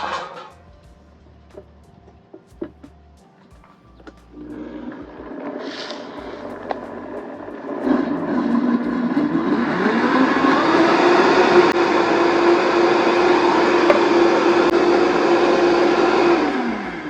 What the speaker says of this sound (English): Vitamix makes it nice and frothy.